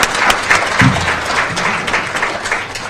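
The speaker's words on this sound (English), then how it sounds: "Give you a round of applause in the back." Audience applause for an event organizer at a community partners celebration, a steady wash of clapping lasting the whole stretch with a brief low voice partway through.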